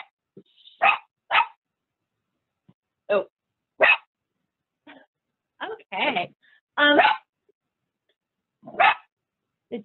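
Dogs bark in short separate bursts played back from a video, loud and close against silence, spaced irregularly with a few quick yips and a brief spoken reaction.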